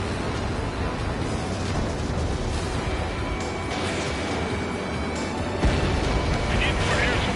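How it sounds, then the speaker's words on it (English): A missile strikes its target in Ace Combat 7 amid a dense, continuous wash of rumbling explosions and battle noise, with a sharper burst near the end. "Missile hit."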